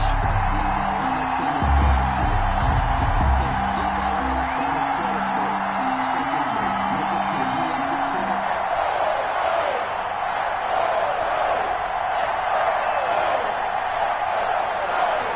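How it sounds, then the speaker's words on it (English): A stadium crowd in an NFL football video game, Steelers against Giants, keeps up a broad, steady roar of cheering and whooping. It runs constant throughout, and a commentator talks over it. "This crowd is ready as their guys get set to match up between the Pittsburgh Steelers and the New York Giants."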